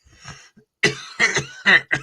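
A person coughs four times in quick succession, close and fairly loud, after a quiet breathy start.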